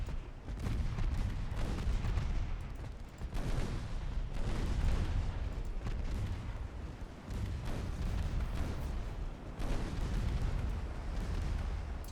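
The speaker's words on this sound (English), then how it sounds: "And even the 4-inch guns are doing damage" Naval 4-inch guns fire in the Ultimate Admiral Dreadnoughts warship game, a dense, continuous barrage of overlapping booms and rumbling blasts that keeps going for the whole stretch without a pause.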